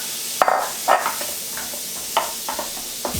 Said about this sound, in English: now we are gonna saute one with the bacon